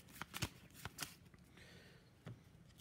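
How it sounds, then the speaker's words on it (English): A deck of cards is shuffled during a solo tabletop play of the dungeon-crawler card game Tiny Epic Dungeons, giving a few quick riffling bursts up close, faint and brief, with no talking. "I'll do a quick little shuffle on that deck"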